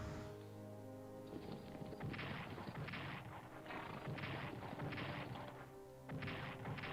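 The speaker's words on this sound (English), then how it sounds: "How much artillery do those French guns have?" French guns in the World War I strategy game Strategic Command: World War I pound away in a dense artillery barrage, overlapping booms and crashing impacts coming in heavy, steady bursts for several seconds.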